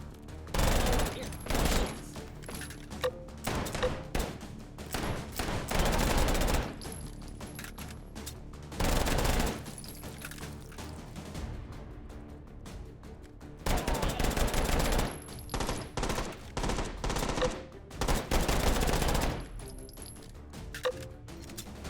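Bursts of rapid gunfire in the VR shooter H3VR, Take and Hold mode, loud repeated volleys of machine-gun-like shots separated by short pauses, with brief talk between bursts.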